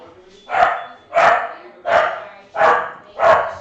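A dog barks five times in a steady rhythm, each bark loud and close, with a faint background of voices from a card game stream.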